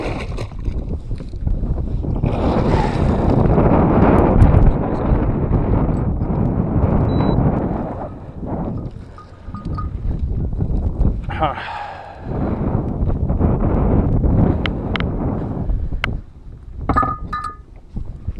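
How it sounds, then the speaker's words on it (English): Strong wind roars and buffets the microphone in long gusts outdoors on the water during bass fishing, with a voice heard faintly beneath the rushing noise. "It's getting super windy."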